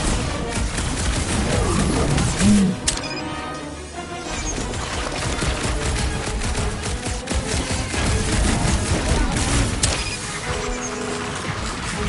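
Dense, continuous video game combat with heavy gunfire, a loud, busy wash of shots, impacts and crashes lasting throughout, with brief dips but no pause.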